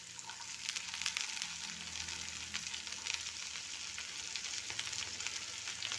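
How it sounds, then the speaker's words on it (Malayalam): Okra frying with sautéed onion in a pan for a homestyle Kerala curry, a continuous close crackling sizzle with steady spitting bursts throughout, no talking. "ഇതിലേക്ക് ഇനി വെണ്ടയ്ക്ക വാരിയിട്ട് കൊടുക്കാം"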